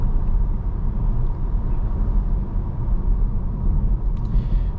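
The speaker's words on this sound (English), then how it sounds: "just a little bit of road noise up at just about 50 miles an hour" Road noise inside a 2024 Volvo S60 cruising at about 50 mph, a steady low rumble and tyre roar that stays even throughout, with no talk.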